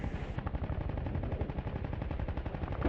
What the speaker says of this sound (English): A violent explosion rocks the air.